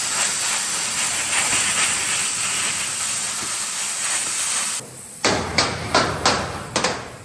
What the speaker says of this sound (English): I'm gonna use our plasma cutter here.